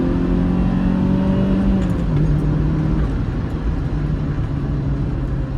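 A small-engine manual car pulls hard after a downshift, its engine note droning loud and steady with a slight pitch drop midway, close and unbroken.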